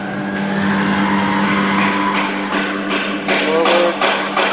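A Toyota electric reach truck driving after a repair, giving a continuous loud electric motor whine with a steady hum and a few clunks and squeaks toward the end, close up.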